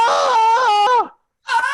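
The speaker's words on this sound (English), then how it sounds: "We see the squirrel standing in front of the one who continues to scream until the cry reaches" A performer screams and wails during a staged reading of a fable, a loud sustained cry with wavering pitch that breaks off abruptly, pauses briefly, then resumes.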